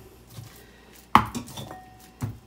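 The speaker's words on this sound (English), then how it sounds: "So I'm just going to start by putting the bones into the Instant Pot" Pork bones dropped into an Instant Pot: one sharp, loud clunk of bone on metal, then a softer rattle and a second duller knock, close up with no talk.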